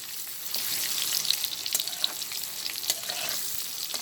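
Pointed gourd slices fry in a pan, a steady close sizzle broken by light scrapes and crackles of stirring, with no one speaking.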